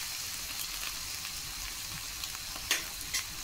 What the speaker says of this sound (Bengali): এইভাবে আমি নেড়ে ছেড়ে কিন্তু মশলাটা ভালো করে কষিয়ে নিচ্ছি